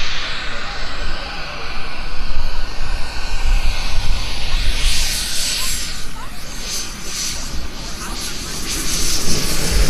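An RC turbine jet model of a Gotha P.60A coming in to land at an airshow, its loud steady jet roar and hiss sweeping past nearby throughout, with a rising whine partway through.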